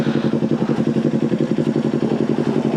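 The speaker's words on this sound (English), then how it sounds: "It has that very classic twin cylinder sound" A Kawasaki Ninja 400 twin-cylinder engine fitted with a Leo Vinci exhaust idles close by, a loud, steady rhythmic thrumming pulse with a slight mechanical clatter.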